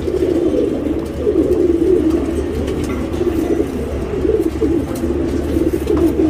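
Pigeons kept for breeding in a loft give a continuous low, rolling cooing chorus, close and fairly loud throughout, with no one speaking.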